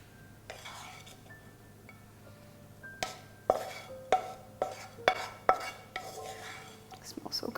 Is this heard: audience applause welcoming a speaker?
no